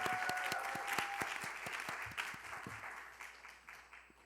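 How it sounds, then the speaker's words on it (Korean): Audience applause opening a youth speech contest broadcast from the Korean National Assembly, with sharp individual claps up front blending into a broad wash of clapping that gradually fades. "큰 박수와 함께 시작하겠습니다."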